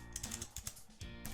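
Quick keystrokes tapping on a computer keyboard while a search is typed in, a close, steady patter of clicks over about a second with no talking.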